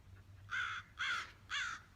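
A crow caws three times in even succession, loud and close, with a faint low hum underneath and no voices.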